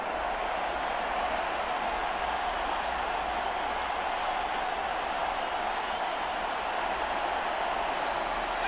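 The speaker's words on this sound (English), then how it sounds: "This crowd turning up the decibel level." Steady, dense roar of a large NFL stadium crowd at a 49ers–Vikings game, a continuous wash of cheering with no breaks, loud and unchanging throughout.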